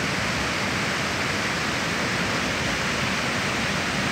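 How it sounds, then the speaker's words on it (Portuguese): An overflowing waterfall pouring nearby, a loud, steady, dense rushing hiss of falling water with nothing else audible. "Olha a cachoeira dos prazeres aqui, ó."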